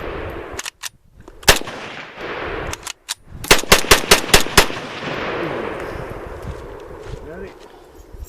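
An SKS rifle fires a string of loud, sharp shots during a mud test, a few spaced single cracks, then a rapid run of about six, with echo trailing off outdoors.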